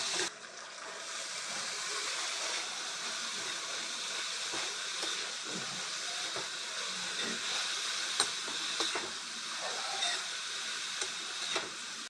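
Potatoes and spinach go into a pan of hot cooked spices, and a soft, steady sizzling hiss follows, broken by occasional light stirring clinks, fairly quiet and without speech.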